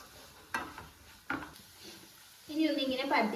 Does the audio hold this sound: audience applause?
no